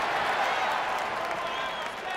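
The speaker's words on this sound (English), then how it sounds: "let's give ourselves a round of applause" Applause on a beat-making live stream fills the moment, a dense, steady patter of clapping that holds at moderate loudness for a couple of seconds without a break.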